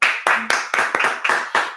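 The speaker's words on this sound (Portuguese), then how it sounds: "Palmas!" Several sharp, evenly spaced hand claps, close and loud, in a steady rhythm of about four per second.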